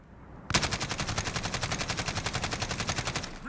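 An AK-12 rifle fires a long unbroken full-auto burst in Call of Duty Modern Warfare, sharp and loud with a fast, even rhythm of shots running for about three seconds after a brief quiet lead-in.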